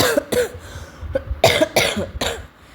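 A person coughs repeatedly, about six sharp, close bursts in uneven succession with short gaps between them.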